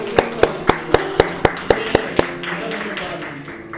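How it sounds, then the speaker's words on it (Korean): A congregation at a church training-course graduation ceremony claps in unison, about nine sharp, evenly spaced claps at a brisk steady rhythm, then trailing off into a softer murmur of scattered sound. "박수하겠습니다"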